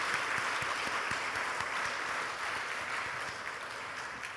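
A church congregation at a special early-morning prayer service applauds steadily to bless the worship team, a dense continuous clapping from a large crowd that fades slightly toward the end.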